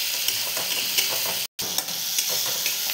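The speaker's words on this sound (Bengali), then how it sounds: "চলো নুন হলুদ দিয়ে একটু ভালো করে কষিয়ে নেব আবারও" Fish masala with salt and turmeric is stir-fried in a pan, producing a loud, dense sizzle with scattered pops and scraping, briefly cut off by a silent gap midway, with no talking.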